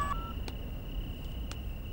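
Telephone keypad tones as a number is dialed outdoors near trees in a village, a few short beeps spread over about two seconds against a steady high electronic hum.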